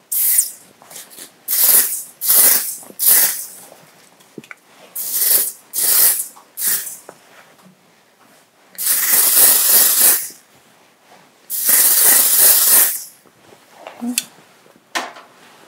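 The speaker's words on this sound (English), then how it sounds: "I'm spraying some heat protectant." Heat protectant sprayed on hair during a ballroom up-do styling session, heard as repeated close, hissing spray bursts, several short quick pumps and then a few longer sustained sprays with short pauses between.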